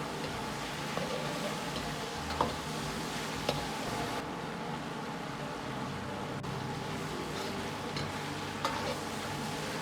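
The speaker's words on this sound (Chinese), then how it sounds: "煸炒至鸭肉收缩，表面稍微有点焦黄" Duck pieces are stir-fried in a wok over medium-low heat after a splash of white liquor, giving a soft, steady sizzle with occasional light clicks of the spatula against the pan.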